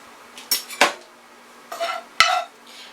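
Ground beef being added and mixed in a bowl with seasonings, heard as a few separate clanks and scrapes of a utensil against the bowl, clear and close with quiet pauses between, no talking.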